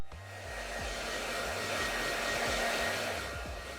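A handheld hair dryer blows on freshly rinsed hair during a blonde-to-black colour job, giving a steady close airy whoosh over a motor hum, with low rhythmic thumps as it is moved back and forth.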